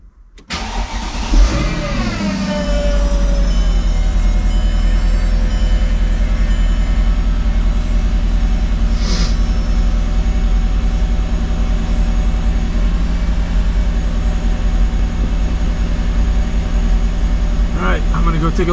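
A 2005 Mercedes-Benz CLK55 AMG with a manual transmission conversion cranks and fires up, then settles into a loud, steady, deep idle that holds close by for the rest of the time.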